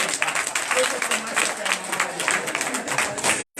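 Church congregation applauding together in a dense, continuous burst of clapping that fills the space, cutting off abruptly near the end.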